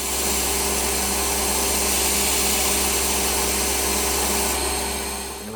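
Coarse emery sanding the rim of a model steam engine flywheel gives a steady, loud abrasive hiss over a constant low machine hum, continuous for the whole stretch and fading slightly at the end.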